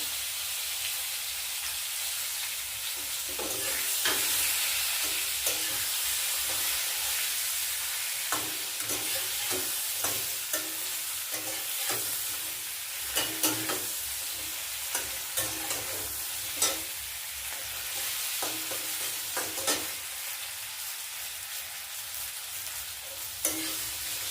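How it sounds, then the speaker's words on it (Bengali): Ginger paste fries with sliced beans in a pan, a constant sizzling hiss broken by repeated scraping and clacking of a spatula stirring, close up and with no voices. "আর একটু আদাটা একটু ভেজে নেবো।"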